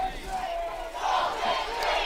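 Home crowd at a Wyoming high school football game between Lander and Buffalo, a sustained loud roar of cheering and yelling from the stands that swells midway and holds steady.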